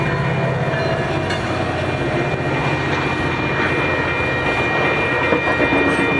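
A freight train rumbles steadily past on the Salt Lake Subdivision, a dense, loud, continuous roar of wheels and rail noise with a low engine drone, no voices.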